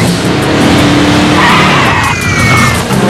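Car pulling away with tires skidding and squealing loudly, engine roaring close and continuous, with a sharp high screech rising midway.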